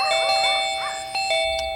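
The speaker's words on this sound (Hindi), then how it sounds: "आधी रात को कौन घंटी बजा रहा है?" A doorbell chimes at midnight in a horror thriller scene, a series of bright ringing tones sounding alone and fairly close.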